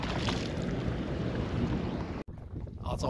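Strong, steady wind at Lake Cachuma buffets the microphone with a loud broadband roar, cutting out briefly before gusting back in.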